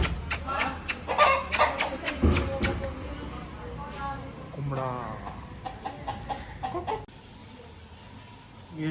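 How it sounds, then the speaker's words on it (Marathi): A rooster crows once in the middle of a home courtyard scene, a mid-distance call rising over clattering background noise while people talk nearby. "आणि आमचा कोंबडा दाखवतो"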